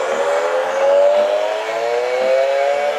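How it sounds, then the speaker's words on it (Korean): A high, whining toy-car engine-rev sound effect rises and falls in steady pulses, loud and close, with no other sounds around it. "엔진 소리."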